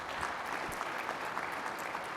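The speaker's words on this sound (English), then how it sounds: "so a real round of applause thank for Jagmeet." Sustained applause from a conference audience greeting a guest speaker at a fireside chat, steady and dense clapping filling the whole stretch with no voices on top.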